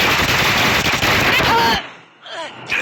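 Automatic gunfire in the video game Call of Duty, a loud dense burst of rapid shots close up that cuts off sharply, followed by fainter sporadic shots and a short whistling tail.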